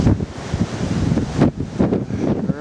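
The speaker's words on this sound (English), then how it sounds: "it's windy as hell and it's freezing cold" Strong gusting wind buffets the microphone outside a Comfort Suites hotel in Richmond, Virginia, on a cold, rainy night during a power outage, a loud continuous roar that swells and dips.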